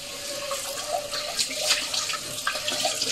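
Tap water runs steadily into a sink while something is rinsed, a continuous splashing flow with small bursts, close and moderately loud, no talking.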